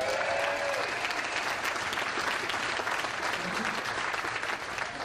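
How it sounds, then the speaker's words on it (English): A seminar audience claps for a man named Brian, dense sustained applause filling the room at an even level throughout, with faint voices mixed in. "Let's give a round of applause for Brian"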